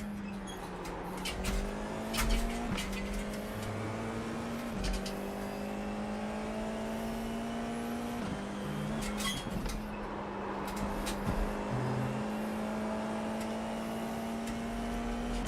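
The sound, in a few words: Formula 4 race car engine on track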